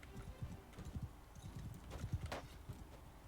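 Horse hooves clop in uneven rhythm during medieval battle combat in Mount & Blade II: Bannerlord, faint and somewhat distant, with scattered clatter and no talking.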